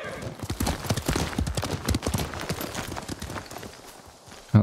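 A horse clip-clops along a trail in the video game Ghost of Tsushima, its hooves striking in a quick, steady rhythm at moderate loudness before the sound tapers off, with a brief thump at the end.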